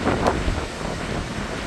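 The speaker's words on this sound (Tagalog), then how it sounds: "Grabe lakas ng hangin." Strong wind buffets the microphone at a seaside surfing campsite during the amihan season, a constant loud roar with gusty rumble and no talking.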